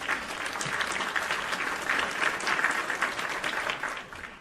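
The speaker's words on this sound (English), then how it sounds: "A round of applause for Flute." A crowd claps steadily and densely, sustained applause filling the whole stretch without pause, fairly close and evenly loud.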